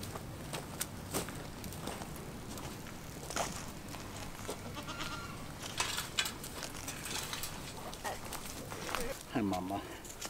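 Goats in a farm pen give a short bleat near the end amid scattered footsteps, rustling and handling noises, fairly faint overall.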